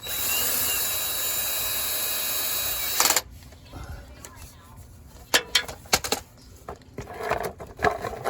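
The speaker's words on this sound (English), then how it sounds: "you guys saw me tighten all those screws for the transmission pan" Power tool running steadily and loudly while tightening transmission pan screws on a 2014-2018 Chevrolet Silverado, holding for about three seconds, then stopping and giving way to scattered clanks and handling noises.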